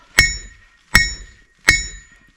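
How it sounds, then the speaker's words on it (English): Three evenly spaced hammer strikes on hot metal at a blacksmith's anvil, each a sharp ringing clang with a bright metallic tone that decays quickly, close and loud with silence between blows. "I'm taking better strikes with the hammer"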